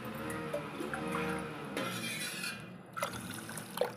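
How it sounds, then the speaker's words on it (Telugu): Water poured into a pot of rice for chakkara pongal in a home kitchen, a steady liquid fill with light trickling and a few faint clinks near the end, no talking. "దీంట్లో వాటర్ యాడ్ చేస్తున్నా."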